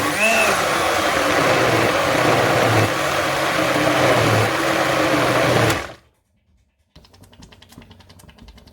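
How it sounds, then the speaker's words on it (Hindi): A grinder jug whirs steadily as it blends cooked mustard greens saag, a loud continuous motor drone for about six seconds that stops abruptly, followed by faint clicking. "हम ग्राइंडर जग के अंदर साग जो हमने पका लिया हुआ है"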